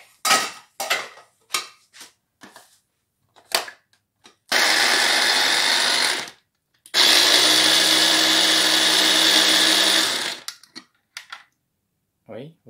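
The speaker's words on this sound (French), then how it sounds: "maintenant je vais le hacher" An electric chopper minces meat for meatballs in two loud, steady whirring bursts of about two and three seconds, separated by a pause, with brief clattering and speech before and after.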